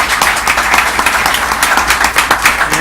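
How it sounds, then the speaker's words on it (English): Steady applause from a city commission meeting audience greets a commissioner, a dense wash of many hands clapping at even loudness throughout, with no talking over it. "Commissioner Joniel Diaz, a round of applause, please."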